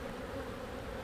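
Honeybees hum in a soft, continuous, close buzz as a beehive is split vertically with a screen divider board. The sound is faint and steady throughout the brief moment.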